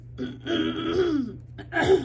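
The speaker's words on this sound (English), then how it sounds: "I cannot clear my throat." A woman still sick with a lingering post-Christmas illness clears her throat in two rough, close bursts, a longer strained one followed by a shorter one, in an otherwise quiet room.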